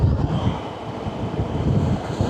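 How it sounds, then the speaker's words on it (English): Strong wind on a moving BMW K1600 GTL motorcycle near Los Alamos, New Mexico roars and buffets the microphone in a steady low rumble with gusty surges throughout, no voices. "Good golly, look at that wind."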